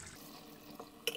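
Water poured into a paella pan during cooking, a short soft liquid splash with a brighter splashy burst near the end, close and quiet with no talking.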